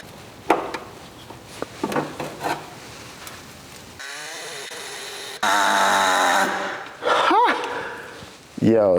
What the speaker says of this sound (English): this air saw is what I should have been using from the beginning